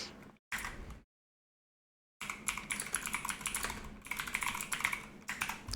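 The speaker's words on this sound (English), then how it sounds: "I want to type something real quick on my loud keyboard" Rapid clacking keystrokes on a loud computer keyboard, a short burst, then a second of silence, followed by a longer run of dense, close typing.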